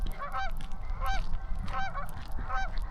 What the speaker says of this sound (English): Canadian geese in Canada.